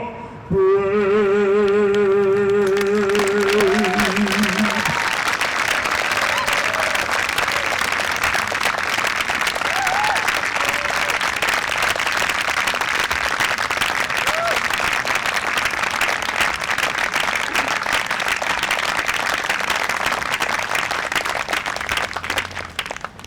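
A crowd at an outdoor Black Lives Matter rally in Seacoast, New Hampshire applauds in a long, steady wash of clapping. A sung note fades out under it at the start, and scattered cheers and voices rise through the crowd noise.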